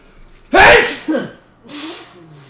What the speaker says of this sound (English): Sneeze coming up.